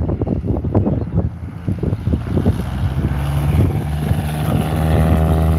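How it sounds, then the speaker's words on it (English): Piper Super Cub light aircraft making a low approach at Wayne, Nebraska: a propeller engine drone swells and holds steady from about halfway through, heard behind strong gusting wind noise on the microphone. "Here comes the Super Cub."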